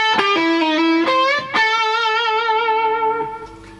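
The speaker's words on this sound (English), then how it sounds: "Lick number 1 sounds like this." Distorted electric guitar plays a blues lead lick in minor pentatonic position 5, with a quick run of picked notes, a couple of sharp attacks, then a long sustained note with vibrato that fades out, heard alone and up close.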